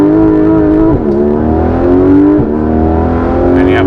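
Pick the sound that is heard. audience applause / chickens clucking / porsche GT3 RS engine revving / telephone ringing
porsche GT3 RS engine revving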